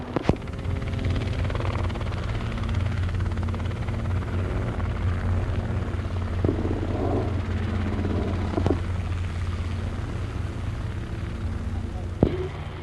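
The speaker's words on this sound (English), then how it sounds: "I'm going to do a completely power-off landing there between those two helicopters" A Robinson R22 helicopter's steady rotor and engine drone fills the clip during a power-off landing, with a few sharp knocks and clicks breaking through now and then.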